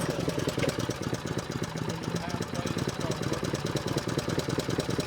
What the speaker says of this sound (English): We're going to turn our choke on to start this motor up